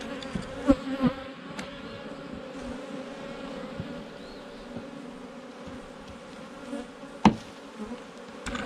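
Honey bees buzzing steadily at low volume while being shaken into a nuc hive during a hive split, with a few sharp knocks from the wooden boxes and frames.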